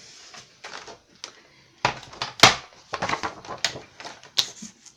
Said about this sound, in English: I will mark this at 3/4 of an inch and then cut it.